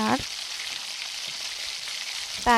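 Fish and potatoes sautéing in a pan give a steady, close broadband sizzle that holds throughout, with brief voiced bursts of talk at the very start and end.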